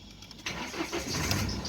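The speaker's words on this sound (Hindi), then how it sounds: "ये गाड़ी भी मेरा स्टार्ट हो गया।" A car with a check-engine fault and a faulty relay cranks briefly and then catches, settling into a close, steady running engine sound.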